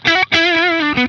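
An electric guitar runs through a Laney compressor pedal on its bottom setting, playing a short, loud, sustained phrase of smooth compressed notes with a brief break near the start.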